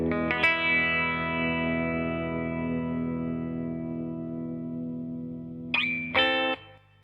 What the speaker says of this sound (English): So you can hear that's giving me a lot more sustain